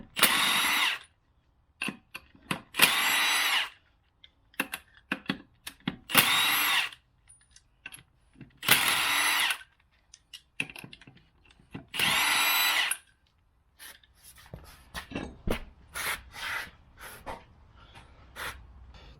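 Impact or power tool taking the tires and wheels off a Jeep, about six loud close bursts of whirring and rattling lug nuts separated by pauses, then quieter clanks and handling noises.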